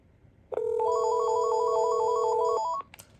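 Panasonic KX-TG1062 cordless phone ringing for an incoming call, a single electronic warbling ring burst of about two seconds, clear and close in a quiet room.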